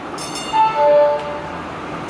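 A DART Red Line light rail train rumbles steadily nearby arriving at Parker Road Station, with a brief rise in loudness midway, faint high tones and screeching threads running over the low mechanical hum.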